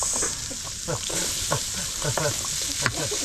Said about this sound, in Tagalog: Ayan, tunog siya agad Ayan natin ang bawang.